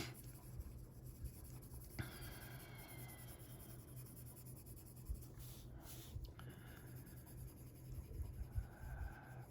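Wax-based Prismacolor colored pencil scratching across paper, a faint close-up series of short rubbing strokes with light taps, steady and uneven in rhythm, with no talk.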